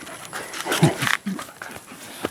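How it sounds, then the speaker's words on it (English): Dogs on a mountain property in the Philippines give short barks and snuffly yelps at close range, with a person speaking among them outdoors. "this is my half dog, half sheep, and there's the other dogs there"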